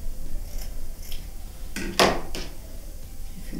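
Scissors trim fabric for a patchwork coin purse, giving a few crisp snips close by, the sharpest near the middle, over faint room noise with no talking.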